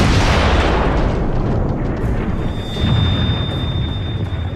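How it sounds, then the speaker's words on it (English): A heavy, rumbling blast from Austrian Skoda artillery cannons firing on Belgrade in 1914, one loud boom at the start that decays into a long, broad roar. "the Austrian artillery's Skoda cannons enter into action against Belgrade"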